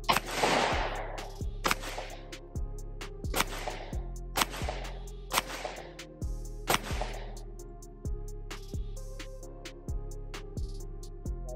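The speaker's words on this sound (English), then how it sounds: "put some rounds through this pistol with the flashlight and see if it blinks or cuts off under any recoil" Pistol fitted with a Viridian C Series rechargeable weapon light fires about seven sharp, loud shots at irregular intervals outdoors, each with a short echoing tail, alongside several fainter distant reports.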